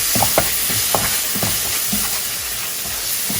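A spoon stirs ketchup into chilli chickpea masala frying in a pan, giving a few scraping strokes and soft clacks over a constant close sizzle and hiss.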